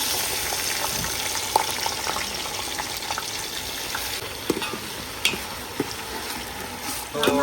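Chopped onions fry in hot oil for a chicken curry, giving a steady close sizzle with occasional soft clinks and scrapes from stirring.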